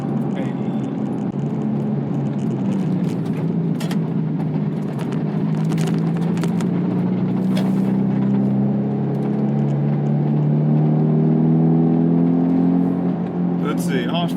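A 2007 Mazda MX-5 Miata with an aftermarket exhaust pulls hard, its engine note climbing steadily and loudly from inside the cabin as speech mixes in over the drone.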